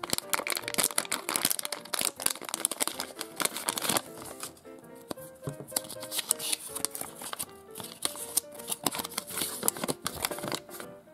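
Super Zings Heroes vs Villains toy packet being torn open and handled, a busy stream of crinkling plastic foil, crackles and sharp rustles, close and continuous, with no speech.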